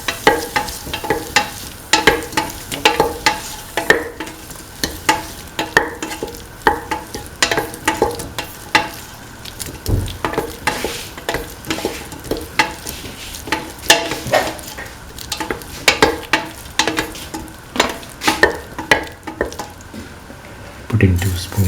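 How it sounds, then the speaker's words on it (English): Tomato, green peas and snake gourd rice is stirred and mixed with salt in a frying pan, a long run of rhythmic spoon scrapes and wet squishes over a low sizzle. "Thoroughly salt and mix."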